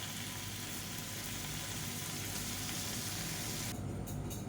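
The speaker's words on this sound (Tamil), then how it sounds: "இப்போ இந்த பன்னீரை நல்லா கோல்டன் கலரில் எல்லா சைடும் வர மாதிரி போட்டு வறுத்து எடுத்துக்கலாம்" Paneer cubes frying in oil in a kadai over a medium flame, giving a steady, close, dense sizzle that continues unbroken with no voices.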